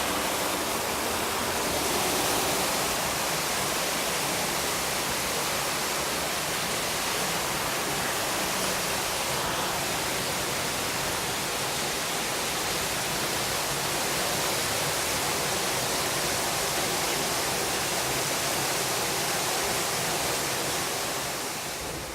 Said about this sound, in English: Water's crashing down.